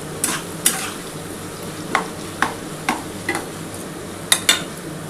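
Onions fry in a pan while being stirred, a low steady sizzle broken by about nine crisp spatula scrapes and taps at irregular intervals, near and moderately loud.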